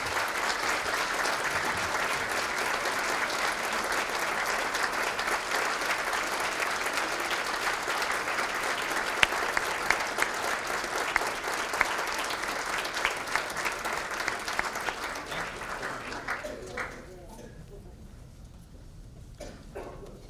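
An audience applauds honorees at a 2017 character recognition ceremony, a steady, dense wash of clapping from a sizeable crowd lasting most of the stretch before thinning and fading out near the end.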